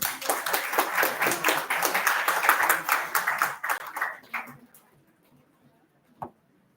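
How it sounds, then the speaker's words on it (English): Loud, dense clapping from an audience at the ICMDISR-2024 event, as a list of names is read out, thinning out after about four seconds into near silence, then one last isolated clap. "Can we have a huge round of applause?"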